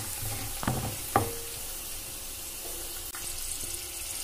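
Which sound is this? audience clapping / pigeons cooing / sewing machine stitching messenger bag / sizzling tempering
sizzling tempering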